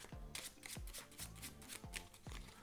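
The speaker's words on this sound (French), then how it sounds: "Donc vous mélangez tous les jeux devant le spectateur." A full deck of 52 playing cards is shuffled close up, with repeated riffling bursts and soft slaps coming in a steady rhythm of about four quick passes, no voices.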